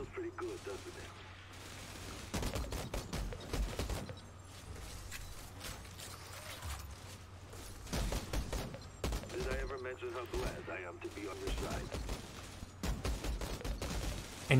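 Weapons-test gunfire in the video game Outriders comes in repeated rapid bursts with short pauses between volleys. The shots are moderately quiet and sharp, spread across the whole stretch.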